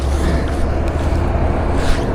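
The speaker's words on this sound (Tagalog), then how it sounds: "Yung mga naririnig nyo po na sasakyan na lagi kong sinasabi, dyan po yun sa gilid." Steady low rumble of traffic passing on a nearby expressway, a continuous broadband wash of vehicles heard from the roadside, moderately loud with no talk.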